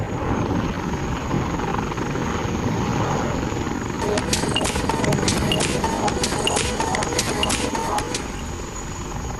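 A Dassault Rafale fighter jet maneuvers at an air show, a sustained broad engine roar that swells and holds, with crackling bursts and faint crowd or commentary noise underneath.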